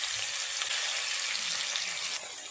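A hilsa fish tail fries in a little mustard oil, a soft continuous sizzle and crackle held at low level from start to finish without talk.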